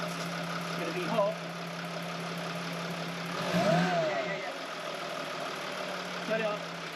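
A car engine idling under a hand-operated rev, with a steady low hum throughout and brief rises in intensity around the middle; people talk nearby over the running motor.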